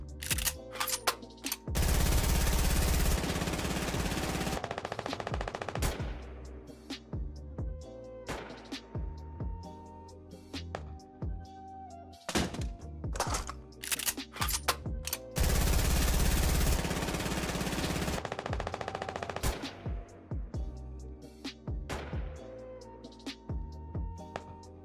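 P90 submachine gun sound effects from the Fortnite video game, with repeated bursts of automatic fire and reload-style clicks and clacks, spread across a long sequence with brief gaps.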